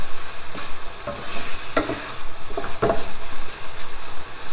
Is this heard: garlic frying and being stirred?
yes